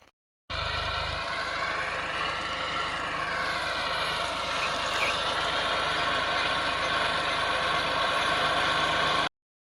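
A tractor engine runs on a farm field, a steady close drone that starts abruptly and holds at constant loudness before cutting off, with no talk.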